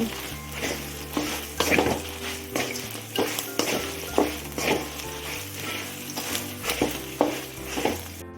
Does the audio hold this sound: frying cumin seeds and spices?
yes